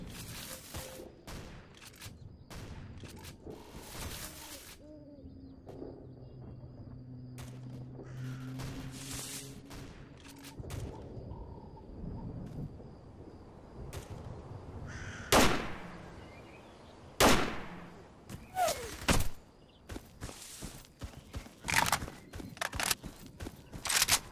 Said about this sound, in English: can hear a shotgun being used